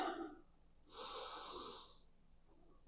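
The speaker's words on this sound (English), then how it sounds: "So we'll take a breath in." A single slow, deep inhalation through the nose and mouth during a beginner Pilates session, soft and close, drawn out over about a second before fading.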